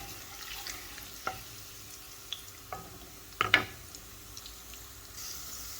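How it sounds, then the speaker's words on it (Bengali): Chopped garlic frying in oil until browned, a quiet, low sizzle close by, broken by a few soft stirring scrapes and clinks, with a slightly louder knock of the utensil near the middle. "রসুনটারে দিয়া ভালোভাবে লাল লাল করিয়া নিব ব্রাউন করিয়া"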